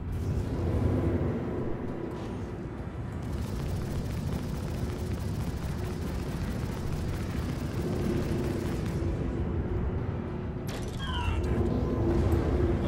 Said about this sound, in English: Launched a missile. Hey, missiles away!